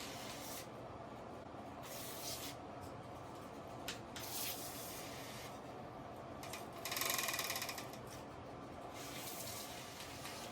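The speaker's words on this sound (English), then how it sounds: "Just spraying along the bottom side here." Short hissing bursts of aerosol lubricant sprayed onto a bicycle chain, repeated several times at close range over a constant background hum, with one longer spray near the end.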